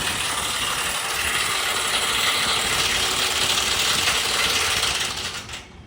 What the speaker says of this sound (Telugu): ఈ నెట్లు అనేది బిగిస్తున్నారండి మిషన్ ద్వారా, అయితే టైట్ అయితే చేస్తున్నారు అన్నమాట.